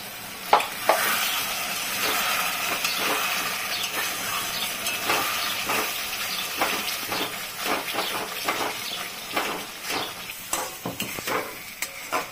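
Bowl-rinse water splashes into biryani masala frying with brain in a hot pan, setting off a steady loud sizzle and hiss with scattered stirring scrapes throughout.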